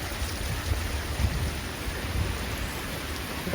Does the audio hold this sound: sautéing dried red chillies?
no